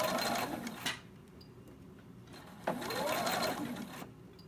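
A sewing machine runs in two bursts, with a steady mechanical whirring and rapid needle clatter stitching forward and then back, separated by a brief pause.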